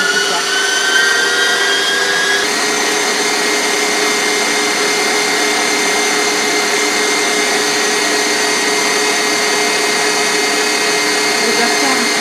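An electric mixer whirs steadily, beating egg whites with a pinch of salt for coffee ice cream; the close, constant motor drone runs the whole time with a slight pitch shift early on.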